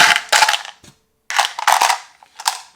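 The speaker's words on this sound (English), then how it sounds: "You dump all the dice into the cup." Plastic dice from the Popcorn Dice game are dumped into a cup in loud, sharp clattering bursts: two close rattles, a brief tick, a pause, then several more bursts up close.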